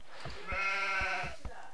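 A sheep in the Age of Empires video game gives a short, nasal bleat with a wavering tone, close and clear, alone without talk.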